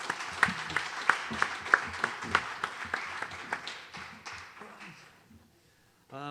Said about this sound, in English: I think another round of applause for Spoz.